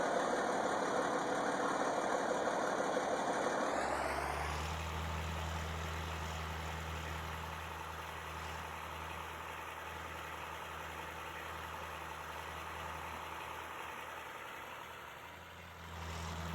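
A 1947 Dodge Power Wagon engine idles in a video game, a steady low rumble that settles into a deeper hum after a few seconds and drones on for the rest.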